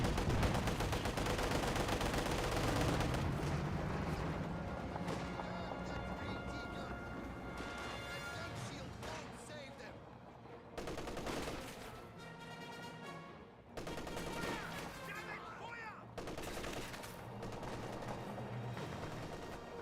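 In Company of Heroes 2, a T-34-76 tank fires amid a busy battle, with booming shots, bursts of machine-gun fire and crashes mixed over music and a talking voice.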